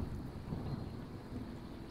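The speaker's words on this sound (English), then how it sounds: "Oh, thunder." Thunder in the survival video game Smalland rolls as a faint, low, continuous rumble with a light rain-like hiss and no talking.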